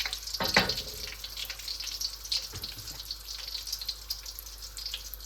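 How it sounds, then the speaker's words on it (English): Cumin seeds fry in a pan over a medium flame, giving a steady, quiet sizzle with a couple of brief clatters near the start and no voices. "We're gonna fry it for a couple of minutes on medium flame, not more than 1 or 2 minutes."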